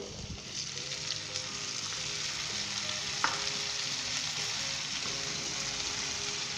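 Tomatoes go into a pan of fried onions and spices for Punjabi anda ghotala and get stirred, giving a steady, fairly loud sizzle with frying crackle and occasional scrapes, no voices.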